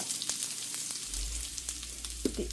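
Steady sizzle of popped mustard seeds and asafoetida powder in hot oil, with scattered soft pops and crackles and a low hum underneath.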